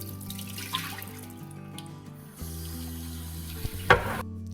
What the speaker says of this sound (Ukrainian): Мої печарки були доволі брудні, тому я їх досить довго мила водою